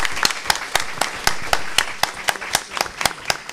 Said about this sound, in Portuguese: uma salva de palmas para esse companheiro